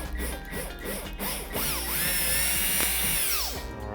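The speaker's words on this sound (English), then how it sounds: "So now we're going to drill right on that mark." A power drill bores into drywall on a marked spot for a plastic drywall anchor, its close, loud whine rising and falling in pitch as the bit spins up, bites and slows over a few seconds.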